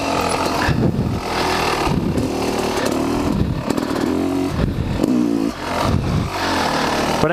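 A motorcycle on a private race track, its engine roaring and revving up and down in repeated surges as gears shift, loud and close throughout with wind buffeting.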